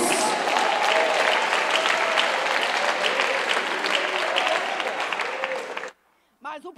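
A church congregation applauds loudly and continuously with cheering voices for about six seconds, then cuts off abruptly, followed by a brief voice.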